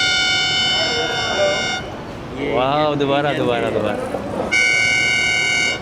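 A loud, sustained hand-held horn on a Daewoo Express bus from Lahore to Karachi blares with a bright, multi-toned blast, stops while people talk excitedly, then sounds again.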